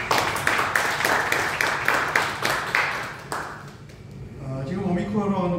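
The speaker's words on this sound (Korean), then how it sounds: "박수로 축하하고 감사합니다" Clapping breaks out at a church service to celebrate a child's birthday, a brisk round of several seconds that fades as a voice resumes talking.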